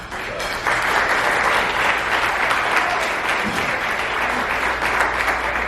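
Audience at a company Fourth of July celebration breaks into sustained applause to welcome a speaker, a dense wash of clapping that swells after a brief start and holds steady throughout.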